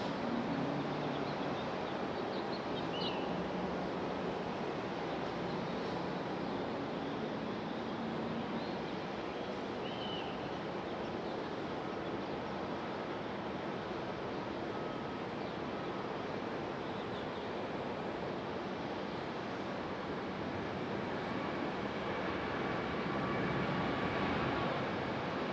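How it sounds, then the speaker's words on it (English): A JetBlue Airbus A220 departs from Raleigh-Durham International in stormy weather, its engines making a steady, loud broadband roar that holds evenly throughout without a break. "we've got our JetBlue A220 about to depart"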